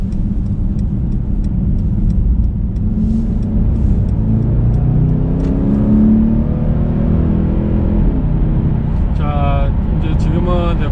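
Mercedes-AMG E63 S 4MATIC with a twin-turbo 4.0-litre V8 accelerating on a wet road, a loud continuous engine drone rising in pitch, with tyre and road roar and someone talking over it.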